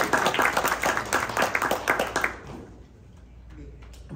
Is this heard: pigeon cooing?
no